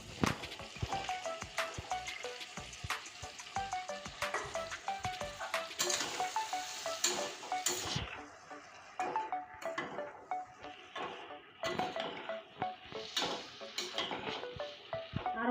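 Chickpeas and fried potatoes sauté with spices in a pan, a soft steady sizzle broken by repeated clinks and scrapes of a spatula against the metal, close and fairly quiet.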